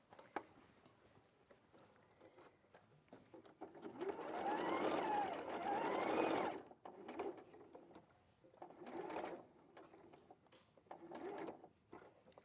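A sewing machine stitches a dobby fabric collar, sewing out along a curve and back in a bright, rapid mechanical whirr that runs for a few seconds amid quieter handling clicks and brief pauses.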